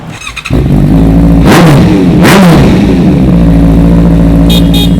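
A 2017 Honda CB650F motorcycle engine catches after a brief crank and settles into a loud, close idle, with a couple of sharp revs.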